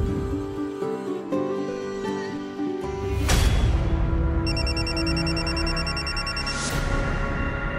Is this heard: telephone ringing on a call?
yes